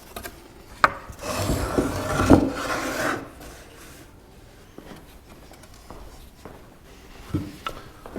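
A saw cutting out a wooden rocking horse neck, rough rasping strokes through wood for a couple of seconds, then scattered knocks, scrapes and a short rasp near the end.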